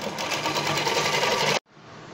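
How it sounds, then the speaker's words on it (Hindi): A sewing machine runs fast and loud, stitching piping into the armhole of a midi dress, then stops abruptly, leaving only a quieter background hum. "इस पर हम फिटिंग का सिलाई लगाएंगे"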